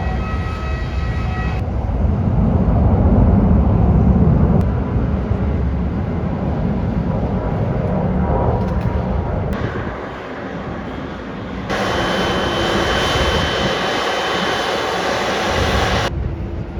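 Airplanes at a busy airport runway on a sunny day, a loud, continuous rumbling engine roar that swells and shifts over several seconds, heard from a distance without any voices.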